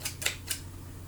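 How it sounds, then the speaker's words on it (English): Three quick scissor snips cut through a stiff paper plate, crisp and close, evenly spaced in the first half before a low steady hum. "some scissors and cut it so that it's flat"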